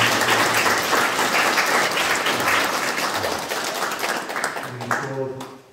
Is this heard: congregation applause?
yes